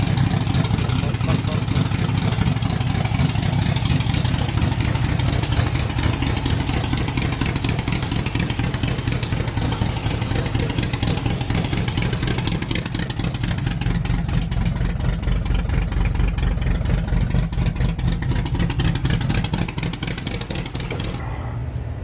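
A Pontiac Starfire pro street car engine idles roughly and continuously, a low uneven chugging throb that holds steady throughout, close by.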